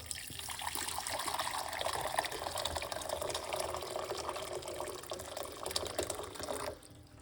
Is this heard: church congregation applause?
no